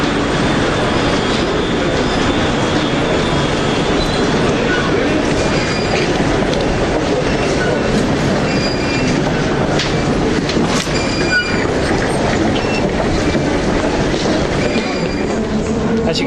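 A London Midland train runs on the rails with a loud, continuous rumble and wheel noise. Faint clicks and squeals come through all the way.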